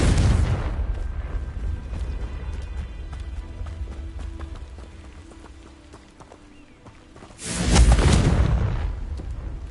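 A Confringo explosion spell in Hogwarts Legacy bursts loudly near the end after a stretch of softer rumbling and thudding sounds, then fades away.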